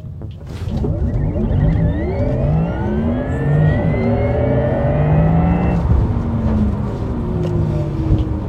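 A Porsche Taycan electric car accelerates hard, a rising whine climbing steadily in pitch under a steady rush of road and wind noise from inside the cabin.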